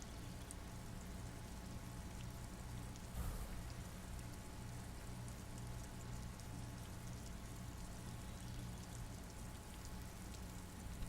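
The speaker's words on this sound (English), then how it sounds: "Even the rain feels nice." Rain falls steadily in a dense, even hiss that stays at the same faint level throughout. A single slightly louder patter cuts through briefly partway in.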